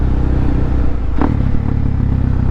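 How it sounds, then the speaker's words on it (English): A motorcycle climbing a hill while doing a wheelie, its engine droning loudly and steadily up close with a brief clatter partway through. "I can't not wheelie this hill"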